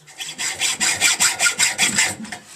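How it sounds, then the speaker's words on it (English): A hacksaw cuts through welds on a Suzuki Bandit 1200 motorcycle exhaust baffle, giving about ten steady, close rasping strokes in an even back-and-forth rhythm with no talk. "a hacksaw is just great. You get so much more control."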